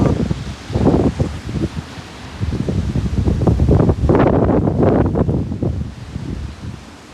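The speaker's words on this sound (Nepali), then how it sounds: "एउटा भिडियो राखेको छु, एकदमै हावाहुरी चलेको" Strong gusts sweep through trees, leaves rustling loudly in surging waves that rise and fall, with wind buffeting the microphone.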